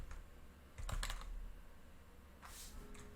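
Soft keystrokes on a computer keyboard that is a little unresponsive, with a short cluster of clicks near the start and another burst of taps later, faint and close.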